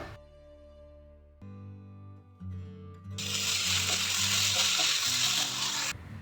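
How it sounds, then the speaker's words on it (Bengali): Spice paste fries in mustard oil for a jackfruit and shrimp curry. A quiet start with clinks gives way to a loud, steady sizzle that stops abruptly near the end. "ভালো করে মশলাটা ভেজে নেব"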